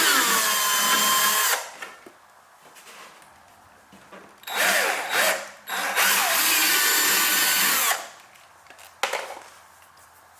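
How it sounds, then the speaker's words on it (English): A power drill bores holes in an aftermarket Sorcery-style bumper on a Honda S2000 to mount APR canards. It whines loudly in several long bursts separated by quiet gaps and short stops. "I'll probably drill this side first, make sure I like it"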